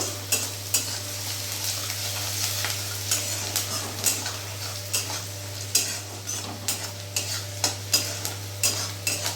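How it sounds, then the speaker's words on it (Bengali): Onions frying in a pan with a steady sizzle, punctuated by repeated scraping clicks of a spoon stirring against the metal. "পেঁয়াজটা ততক্ষণ ভাজবো যতক্ষণ পেঁয়াজের একটা কাঁচা গন্ধটা চলে যাবে"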